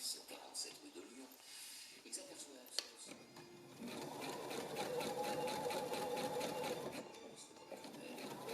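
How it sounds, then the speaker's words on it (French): A sewing machine stitches ribbon onto the right fly flap of a three-piece-suit trouser, a steady close whirring run after a few seconds of soft handling sounds and faint murmuring. "on vient coudre ce ruban-là, l'autre ruban, sur le rabat droit"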